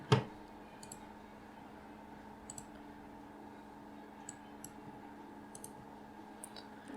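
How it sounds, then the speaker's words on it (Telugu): A computer mouse clicks during software installation: one sharper click, then scattered soft clicks, some in quick pairs, over a quiet low hum. "సో డబుల్ క్లిక్ చేసి ఎస్"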